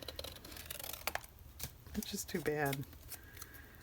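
Scissors snipping through old gray Hopscotch paper for a collage, a few short crisp cuts and rustles close by, with a quiet voice talking over them.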